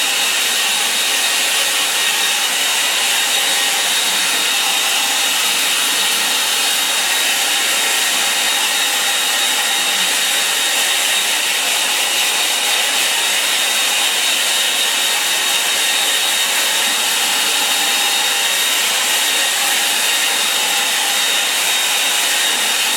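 A hair dryer blows on a watercolour painting of a woodland glade, a loud, constant airy roar that runs unbroken from start to finish with no other sounds.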